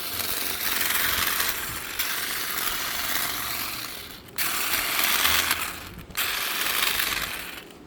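A Sun Joe electric hedge trimmer buzzes steadily as it shapes a swirl shrub, a close, continuous mechanical chatter that cuts out briefly twice before starting up again, with no talking.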